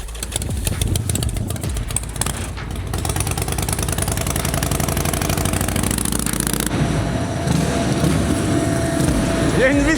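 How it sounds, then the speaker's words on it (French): A custom-built motorcycle with a 2.3-litre engine called El Bruto runs steadily throughout, a loud, close, continuous low engine rumble with some background chatter mixed in. "C'est quoi le moteur dedans, là, tu dis 2 litres 3, ça s'appelle El Bruto."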